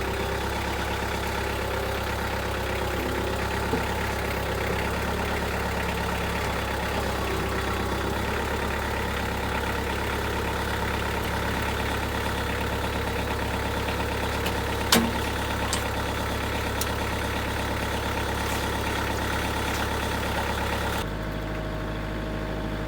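A tractor engine drones steadily at close range for a long stretch while grading a gravel driveway, with a constant low rumble and occasional faint clanks.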